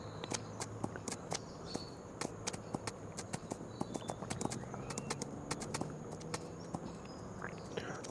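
A horse clip-clops at a steady walking pace in Farming Simulator 25, close and distinct hoofbeats repeating evenly over faint insect chirping in the background.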